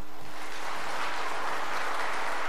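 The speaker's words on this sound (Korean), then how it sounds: "우리 박수 한번 보내겠습니다" Congregation applauding during a Korean church worship service, a continuous broad roar of clapping that holds evenly for the whole span.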